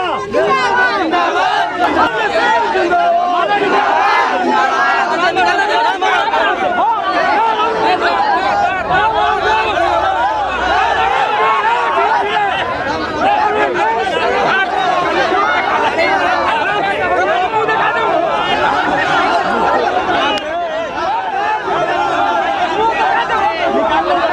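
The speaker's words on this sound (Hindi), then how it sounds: "ये भीड़ देखकर आप अंदाजा लगा सकते हैं, इस भीड़ को देखकर क्या आलम है।" A large, dense crowd of supporters gathered for a village head's nomination rally, with loud continuous chatter and shouting voices filling the whole stretch at close range.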